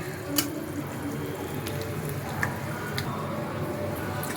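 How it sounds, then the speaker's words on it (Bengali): Cooked dahi potol curry, pointal in a yogurt gravy finished with ghee, is tipped out of the pan with soft wet slides and squishes and a few light scrapes, close over a low steady background. "এখন আমি পটলটা ঢেলে নেব"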